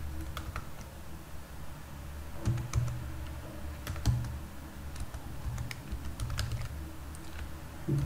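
Code is typed on a computer keyboard in quiet, close clicking taps, irregular bursts of keystrokes with short pauses against a low steady room hum.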